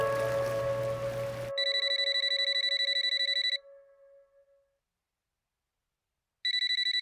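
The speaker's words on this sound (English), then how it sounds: "The phone rings." A telephone ringing with a bright electronic trill, two clear bursts separated by a long silent gap, loud and close, with a brief rumble of background sound just before the first ring.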